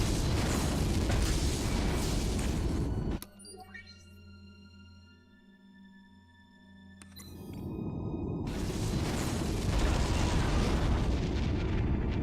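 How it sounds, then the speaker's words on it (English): A transport ship blows up in Star Trek: Shattered Universe, a sudden deep boom cutting through steady engine rumble, followed by several seconds of hollow, ringing tones and whooshes before the loud rumble swells back in. "I did blow up the right transport, right?"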